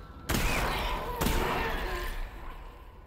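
Shotgun fire in the Half-Life: Alyx VR game, two loud close blasts about a second apart, each with a sharp crack and a long rumbling tail inside a creepy, echoing interior.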